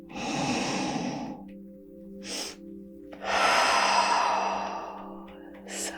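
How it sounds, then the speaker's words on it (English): A person takes a slow, deep breath in and then breathes out in a long audible sigh, followed by a brief sniff and a second extended exhale, close and soft over a faint steady tone. "just take a deep inhale and a deep exhale"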